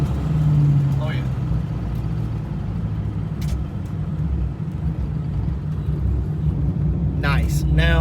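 An automatic Foxbody Mustang with an N51hr cam accelerates and shifts early in drive, its deep engine rumble steady and loud throughout, with brief voices over it near the start and end.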